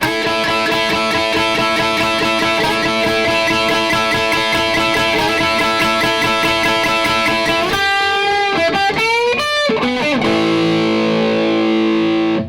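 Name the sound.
distorted electric guitar riff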